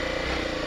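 Honda Tornado 250 motorcycle engine churning through deep mud on a dirt trail, a steady mid-pitched engine drone held close and loud throughout the short stretch, with no talking.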